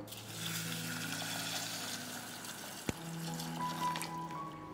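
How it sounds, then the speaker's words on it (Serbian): Water is poured over 50 g of green tea leaves in a pot, a soft steady trickling stream heard up close with a single small clink partway through. "Preliću ga sa vodom."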